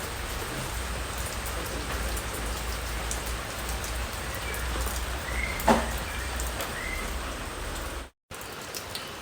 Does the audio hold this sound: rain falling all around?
yes